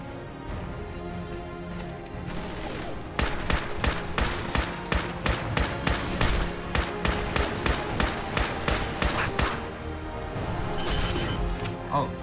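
Combat rifle fire in Fallout 4 survival mode: a steady series of about fifteen loud, evenly spaced shots, following a short stretch of quieter ambience.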